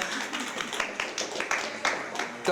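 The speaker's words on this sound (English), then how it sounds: "That deserves a round of applause." Scattered clapping from a small crowd at a casual talk-show style gathering, sharp irregular claps rising and falling under voices talking.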